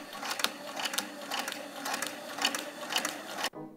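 A sewing machine stitches a reproduction Walkaway Dress in rapid, even mechanical bursts, close up and moderately loud, then stops abruptly just before the end.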